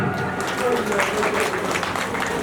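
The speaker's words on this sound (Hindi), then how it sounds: "जोरदार तालियां" An audience claps steadily at a gathering, a dense, even wash of applause that holds for a few seconds, with voices mixed in.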